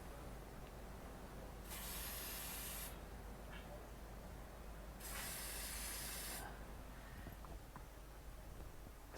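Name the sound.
spraying A/C odor cleaner into car vents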